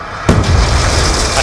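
Sharp explosive blast of C4 detonating in Black Ops 2, an abrupt loud burst followed by a sustained noisy rumble and debris wash, with no talking.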